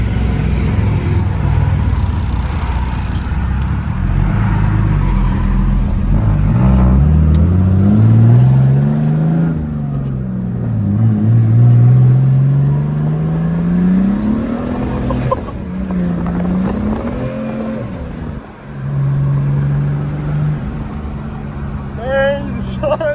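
A diesel Mercedes drives and accelerates, its engine note rising and falling through several gear pulls, loud and close from inside the cab, with a slipping clutch and talk over it.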